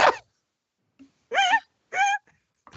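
A voice imitates giggling burps, three short warbling, pitch-wobbling vocal bursts close up with pauses between, alone without speech.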